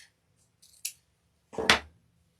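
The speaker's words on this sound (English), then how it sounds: "you just want to cut like a 12-inch strip of it." Scissors snip through a glitter ribbon strip, first a small quick cut and then a sharper, louder crisp slice, close up against a quiet background.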